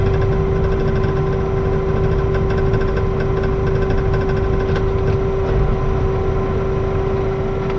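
A tractor-driven hay turner runs in gear, a loud steady engine drone with a constant tonal hum and mechanical rattle underneath, continuous and close, with no speech.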